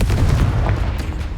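A Confringo blasting spell from the Hogwarts Legacy video game lands as a loud, heavy booming burst with a rumbling low tail, close and alone.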